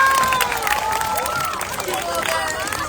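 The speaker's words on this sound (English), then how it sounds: "Let's have one more round of applause for everyone for this wonderful carnival." A crowd claps and cheers at the closing ceremony of a sports carnival, a loud, continuous wash of applause with shouts and whoops, voices mixed through the noise.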